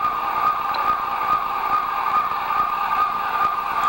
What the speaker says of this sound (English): I hate those car alarms.